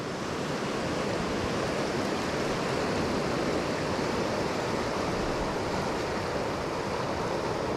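Storm-swollen river water rushing down a flooded tributary, a loud, constant roar of churning flow that fills the whole scene without pause, with no voices.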